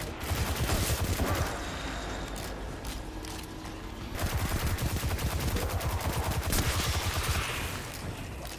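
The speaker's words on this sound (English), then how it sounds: "I'm just running around just shooting stuff when it spawns." Rapid automatic gunfire in the shooter game Destiny 2, long continuous bursts of loud close shots with brief pauses and mechanical weapon clatter between volleys, no talking.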